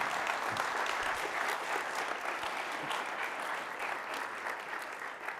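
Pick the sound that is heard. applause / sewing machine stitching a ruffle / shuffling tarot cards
applause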